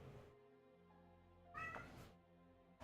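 A cat meows loudly in long, drawn-out tonal cries, with a sharper, strained yowl in the middle, close and clear with no talking.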